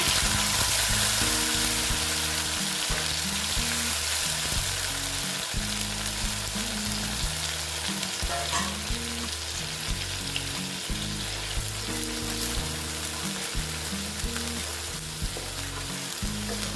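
Ground mustard-poppy paste goes into a hot pan of oil with black cumin seeds for a no-onion, no-garlic taro stolon dish. A loud, dense, continuous sizzle-fry runs throughout, with stirring beneath and a faint repeating low hum.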